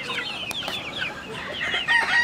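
Purebred Asil roosters and hens cluck and chatter in a busy flock, overlapping calls close by and fairly loud, with no talk over them.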